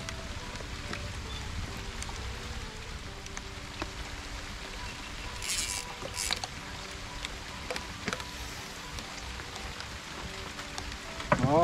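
Steady light rain patters on the water around a boat while fishing for giant river prawns on a river, with a broad hiss of drops, faint insect buzz and a few brief rustles, fairly quiet throughout.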